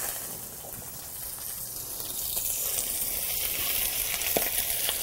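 Spinach wilts in butter in a hot pan with a steady close sizzle that builds slightly louder over a few seconds, with faint watery crackles and no voices.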